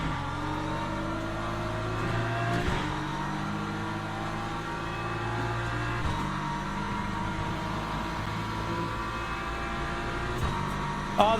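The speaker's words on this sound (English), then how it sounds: "Did you hear that gear change then? It didn't sync right." A race car in the Le Mans Ultimate video game drones with a loud, steady engine note, with a brief shift in pitch near the end as a gear change comes through.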